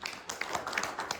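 A small audience at a lecture claps after the talk ends, a brief, light patter of scattered hand claps at moderate distance with uneven rhythm.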